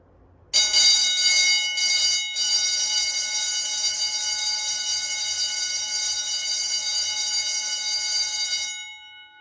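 GS and MB10-24 fire alarm bells ring continuously at a rapid, metallic clang, starting abruptly, holding steady for several seconds, then stopping.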